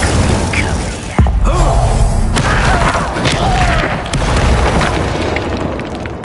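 A fire spell explodes in the video game Hogwarts Legacy, with a loud boom followed by a rumbling, crackling burst that fills the whole stretch alongside other game sounds.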